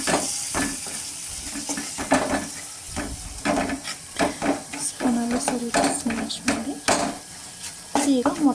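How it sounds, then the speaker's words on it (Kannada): A metal spoon stirs and mashes food in a pan during preparation of an egg dish, producing repeated clinks and scrapes over a steady sizzle of frying. "ಈಗ ಸ್ವಲ್ಪ ತಿರುಗಿಸಿ ಸ್ಪೂನಲ್ಲಿ ಸ್ವಲ್ಪ ಸ್ಮ್ಯಾಶ್ ಮಾಡಿ"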